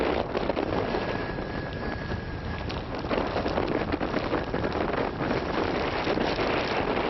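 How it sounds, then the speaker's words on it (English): Storm-force wind gusts batter tents at an exposed camp on an open glacier, a loud, continuous roaring rush with buffeting on the microphone and no voices. "storm-force gusts of wind are ripping through the tents"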